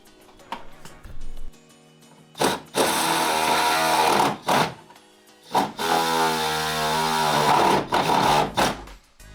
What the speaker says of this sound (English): first I'm just drilling a pilot hole to see where the bolt is behind the panel